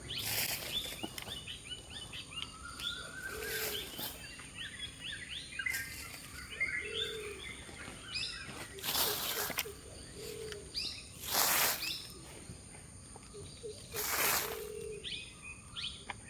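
Many birds chirping and calling together in a farm setting after rain, busy overlapping tweets and trills over a steady insect and cricket drone, with a few louder close calls standing out.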